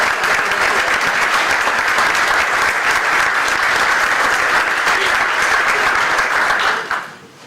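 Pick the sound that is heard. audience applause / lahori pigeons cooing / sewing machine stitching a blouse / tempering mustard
audience applause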